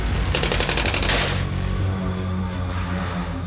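Taliban fighters fire in Afghanistan: a loud, rapid burst of automatic gunfire crackles for about a second, then gives way to echoing, rumbling reports and a lingering roar from the surrounding terrain.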